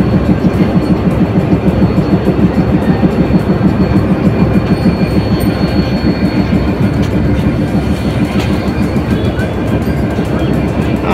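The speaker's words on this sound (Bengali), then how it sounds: "এইখানে পাশে মধুমতি এক্সপ্রেস, যেটা রাজশাহী থেকে ছেড়ে আসছে।" Passenger trains at Rajbari railway station in Bangladesh, the Madhumati Express standing alongside, give a loud continuous rumble with a steady rhythmic clatter of wheels and carriages throughout, close by and filling the scene.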